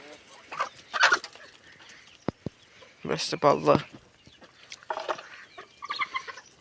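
Chickens cluck in a home yard where geese are also kept, sharp bursts of clucking and squawks coming in several close clusters between stretches of a person talking.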